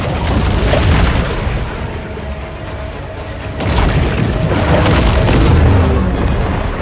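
Deep booming blasts from torpedoes in the shark game Maneater, two heavy rumbling surges with a lull between, loud and filling the whole scene.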